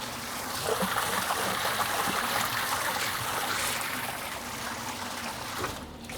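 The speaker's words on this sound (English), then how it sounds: "got to turn on the water." Tap water running steadily from a faucet in a sake brewery while rice is washed and soaked, a continuous close trickling and splashing wash that holds evenly for the whole stretch, with no talking.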